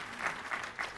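Faint audience applause at a SQL Server 2016 presentation, with soft clapping that rises in three brief swells.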